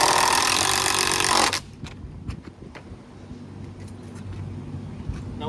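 A power drill drives a screw into a Christmas tree corral with a loud whirring run for about a second and a half, then cuts off; scattered clicks and handling noises follow over a faint background hum.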